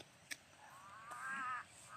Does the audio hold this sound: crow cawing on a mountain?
yes